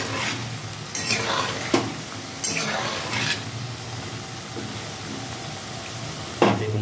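Pakoras fry in oil over low heat with a steady, close sizzle, broken by a few soft clinks and scrapes of a utensil and no voices.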